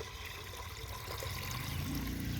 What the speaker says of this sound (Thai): เปิดสายยางนะคะ เติมน้ำเปล่าลงไปเพิ่มเลยนะคะ